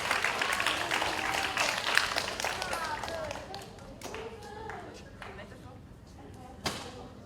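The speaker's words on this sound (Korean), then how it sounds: "우리 재밌는 발표 진행해준 넷플릭스 팀에게 다시 한번 뜨거운 박수 부탁드리겠습니다" An audience at a business-model presentation contest claps for a presenting team, a lively patter of hands that thins and fades over several seconds, with scattered sharp claps and some voices underneath.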